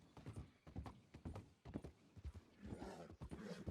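Horse hooves clip-clop in a steady, close rhythm in a Red Dead-style roleplay game, with an occasional whinny and no talk.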